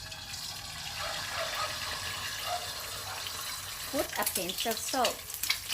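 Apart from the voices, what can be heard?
egg frying sunny side up in a pan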